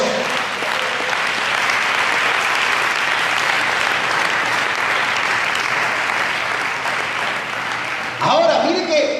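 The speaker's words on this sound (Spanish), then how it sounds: "Fuertes aplausos para Dios." Congregation applauding during a Christian church congress service, loud sustained clapping filling the room evenly until it stops abruptly, followed by a speaking voice.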